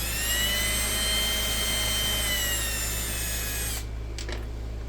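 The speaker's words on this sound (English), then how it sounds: "I'm gonna put my drill on the slow speed" Power drill running on slow speed while fitting protection rails to a Xiegu X6100 portable ham radio, a loud steady motor whine held close for several seconds before cutting off abruptly near the end.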